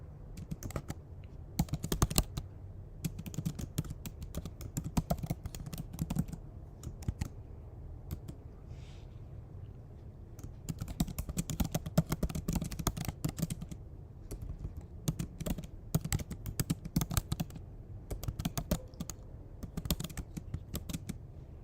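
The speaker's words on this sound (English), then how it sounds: "I think you can hear the typing here" Rapid clicking of typing on a computer keyboard, continuous bursts of keystrokes with brief pauses, close and steady over a low background hum.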